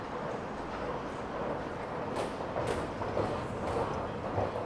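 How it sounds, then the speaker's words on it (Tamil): Steady rumble of a metro train moving through a station in China, a continuous roar with faint clicks and brief bright hisses, loud and close without talk. "அதே மெட்ரோ ஸ்டேஷன்."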